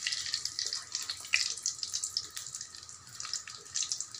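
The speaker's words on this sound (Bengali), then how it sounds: "এবার দিলাম গোটা গরম মশলা, এটাকে একটু ভেজে নেব।" Bay leaves and whole garam masala spices fry in hot oil, giving a continuous fine hissing crackle with irregular sputtering pops, close and fairly steady throughout.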